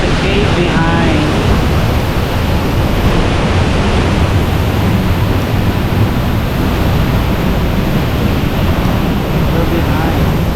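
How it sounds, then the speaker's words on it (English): Pagsanjan Falls roars as a dense, loud, unbroken wash of falling water heard from behind the falls in a cave, with people talking faintly under it. "Now we are behind the waterfall"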